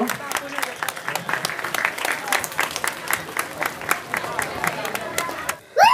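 Crowd applause at an award ceremony for a Jagaddhatri Puja celebration committee, a steady patter of many hands clapping for several seconds, fairly close, before it cuts off abruptly.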